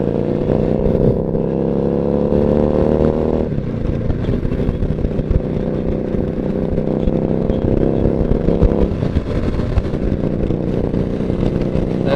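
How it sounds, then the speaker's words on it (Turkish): A Harley-Davidson motorcycle engine rumbles steadily and loudly throughout a Sunday highway ride, with wind noise and a shift in pitch partway through; no one talks. "sese bak be. Harley Harley Harley Harley diyor."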